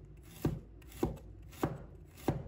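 A knife slices a piece of fresh ginger into pieces on a board, four evenly spaced soft thuds about half a second apart, close and fairly quiet, with no talking.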